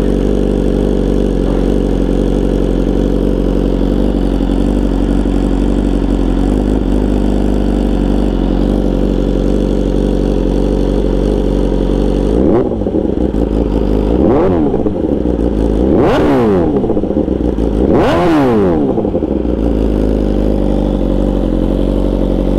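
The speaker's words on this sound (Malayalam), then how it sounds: "എക്സോസ്റ്റിൻ്റെ സൗണ്ട് ഒന്ന് കേൾപ്പിക്കാം. ഇത് ആക്രപോവിക് full system shorty G P exhaust ആണ്." A BMW S1000RR Pro sportbike fitted with an Akrapovic full-system shorty GP exhaust idles loudly and steadily up close, then gets four sharp throttle blips that rev up and fall back, with no voices.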